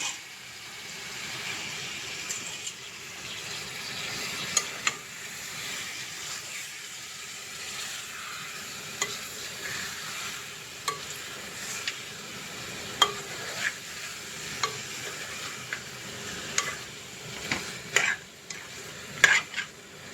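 Spatula stirring country chicken curry in a pan, soft scraping and occasional metal clinks over a faint low sizzle, fairly quiet and intermittent.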